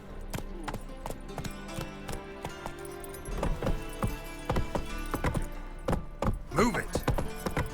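Horse hooves clip-clop at a steady trot in The Witcher 3, crisp repeated hoofbeats close by with faint background game ambience and a brief voice.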